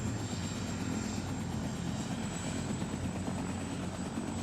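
A helicopter flies steadily overhead in a scene from The Sopranos, its loud continuous rotor and engine drone filling the whole stretch with no talk.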